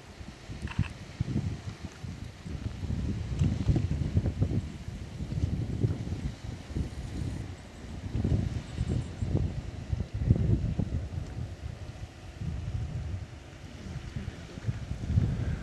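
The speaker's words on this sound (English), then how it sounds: "Jeez, this wind is cold." Cold wind blows outdoors in gusty bursts, buffeting the microphone with low rumbling surges that rise and fall throughout.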